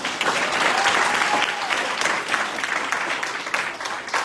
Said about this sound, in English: let's give the candidates another round of applause.